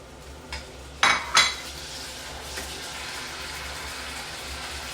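A pan and utensils clatter while spinach is cooked in a home kitchen, with two sharp metallic clanks close together. Softer sizzling and background kitchen noise continue underneath.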